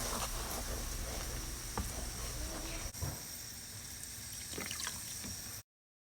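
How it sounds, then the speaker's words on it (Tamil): Water poured into a frying pan of sautéed paste: steady hissing and sizzling with faint liquid splashes, a close continuous fry noise that cuts off abruptly near the end. "கொஞ்சமாக தண்ணி ஊற்றி நல்லா வதக்கிடலாம்."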